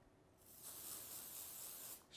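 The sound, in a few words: spraying Dr. Scholl's foot spray onto a golf driver face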